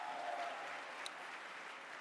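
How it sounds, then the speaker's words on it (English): Faint, steady applause from a gala audience at the Bellagio in Las Vegas during an awards event, a soft continuous wash heard at some distance with no talking. "Give it a round of applause."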